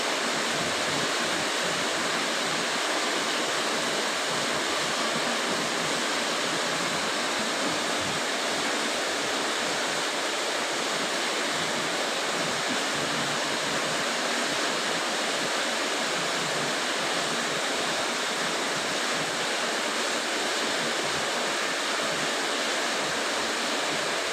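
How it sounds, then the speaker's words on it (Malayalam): Steady, dense rain pours without a break, a loud even hiss filling the whole stretch with no voices. "ഇവിടെ മഴയായിട്ട് അതാണ് നല്ല സൗണ്ട്"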